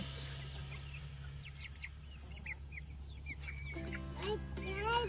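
Scattered soft clucks from backyard chickens over a steady low hum, with a voice speaking near the end.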